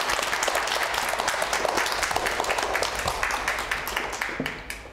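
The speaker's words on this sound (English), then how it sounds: "Let us give a huge round of applause to our fabulous children's laureate" An audience at a live author event gives a big round of applause for children's laureate Lauren Child, dense steady clapping that tapers slightly toward the end.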